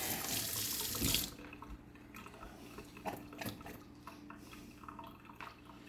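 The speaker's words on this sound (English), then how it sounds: "Then I fill my airlock to the proper mark." Water runs briefly from a tap to fill a wine-making airlock, a short gushing burst followed by faint drips, small clinks and handling noises, quiet and close.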